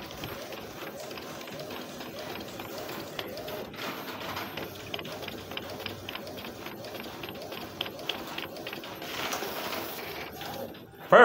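An Epson L120 inkjet printer, just repaired, runs through a print job with a steady mechanical whir and repeated clicking shuffles of the carriage, lasting throughout at moderate, close level with a louder burst at the very end.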